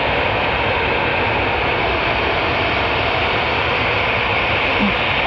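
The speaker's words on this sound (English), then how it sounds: "And just making its way to the runway is a Dreamliner." A Boeing 787-9 Dreamliner taxiing toward the runway at Manchester Airport, heard as a steady, broad jet engine roar and hum that holds constant throughout, fairly distant with no talk over it.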